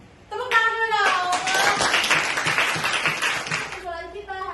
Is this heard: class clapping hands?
yes